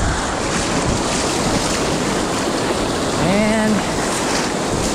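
Ocean surf breaking against a seawall on a warm spring day with onshore wind, a steady broadband wash of waves with wind noise throughout, and someone speaking briefly.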